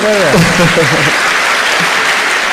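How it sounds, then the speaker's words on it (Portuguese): An audience applauds at a literary festival talk, a loud wash of clapping heard alongside a voice speaking briefly over the start. "Palmas para ele, gente"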